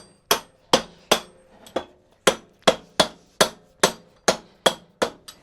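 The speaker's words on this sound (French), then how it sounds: "Toujours au maillet." A mallet taps the wheel axle of a Ducati Monster motorcycle in a steady series of about a dozen sharp, ringing knocks, evenly spaced and close, with quiet between strikes.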